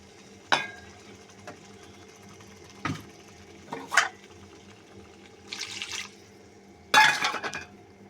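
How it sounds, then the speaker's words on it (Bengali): Water is added to a pan of katla fish korma masala, heard as a few short, separate splashes and sizzling bursts with brief quiet gaps between, near and without talk. "দেখো মশলাটা হয়ে গেছে, আমি এবার একটু জল দিয়ে দিচ্ছি"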